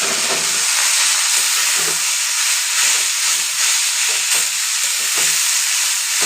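Red amaranth greens hit hot oil tempered with nigella seeds, garlic and dried chilli, giving a loud, steady hiss of frying that holds for several seconds with small crackles throughout.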